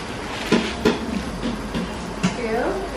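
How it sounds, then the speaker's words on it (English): Dishes being washed in a home kitchen make clinks and clatters in the background, under steady running-water noise and some faint rumbling. "Mom's doing dishes"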